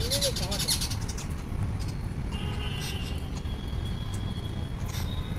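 Small birds chirp and call in agitation while fighting a live snake outdoors; the calls are brief and scattered over a steady noisy background, with people talking nearby.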